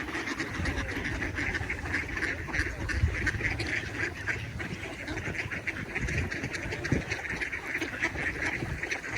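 A large crowd of ducks quacks continuously outdoors in a Pennsylvania town, a dense, steady chorus of overlapping calls close by with no pauses.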